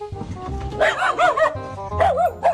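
A dog barks and yips repeatedly in quick bursts, close and loud, with rising whining tones between barks.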